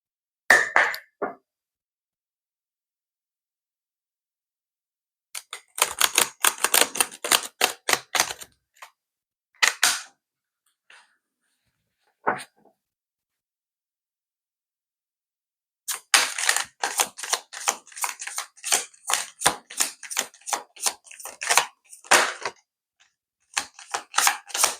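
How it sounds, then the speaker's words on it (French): A deck of oracle cards is shuffled in close, crisp bursts of rapid riffling flutter, separated by silent gaps and a few single card snaps, with no voices. "vous allez rebattre les cartes. Avec l'oracle des miroirs."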